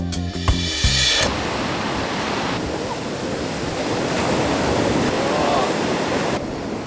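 Ocean surf at Bondi Beach in Sydney, a loud steady broadband wash of breaking waves with wind buffeting the microphone, a short burst of clattering noise at the start.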